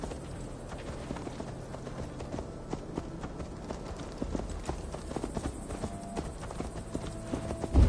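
Hooves clip-clop in a steady galloping rhythm as a horse is ridden in Assassin's Creed Valhalla, running continuously at moderate loudness throughout.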